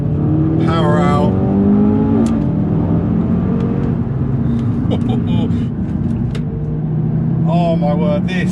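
A 2019 Audi RS3 Saloon's engine revs hard under acceleration on twisting mountain roads, rising pitch sweeping upward as it pulls out of a corner, loud and close with a steady road roar beneath.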